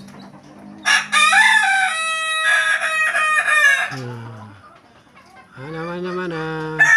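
Indonesian laughing chickens (ayam ketawa), kinantan and jalak roosters, crow loud and close in a rooster crowing duel, with two long, wavering crows separated by a short pause. A voice speaks briefly.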